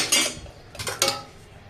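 Tengra fish pieces tipped into a pot of potato and aubergine curry, heard as a few close metallic scrapes and clinks of utensil on pot in quick succession, with no talk.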